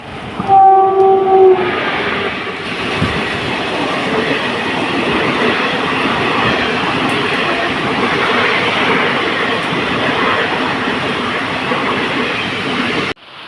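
A Vande Bharat express sounds a short horn and then thunders steadily through Chirakkal station in Kerala during monsoon rain, a loud continuous rush of wheels and wagons lasting several seconds.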